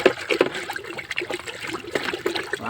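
Humic acid stirred into water makes sloshing, trickling liquid sounds with irregular swirls and small splashes, close and moderately loud throughout.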